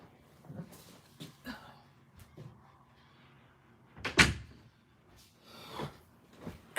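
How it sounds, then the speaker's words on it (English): A room door is shut indoors, giving one loud, close thud with a brief rattle, set among quieter handling sounds and shuffling. "Let me shut my door."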